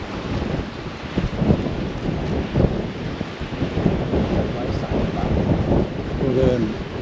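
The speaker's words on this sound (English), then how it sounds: "I'm trying to mask this wind out for you because it is really blowing." Strong wind buffeting the microphone on a riverbank by the River Humber, a constant rough roar with gusts, while someone talks intermittently over it.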